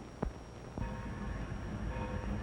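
A steam locomotive train runs steadily along the track, a continuous rumbling clatter with faint whistle-like tones, after a sharp thump near the start.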